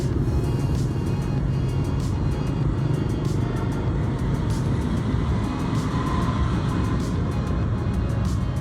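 Busy Saigon street traffic with cars and motorcycles in Ho Chi Minh City, a steady, loud, dense roar of engines with continuous rumble and scattered sharper bursts throughout, no voices.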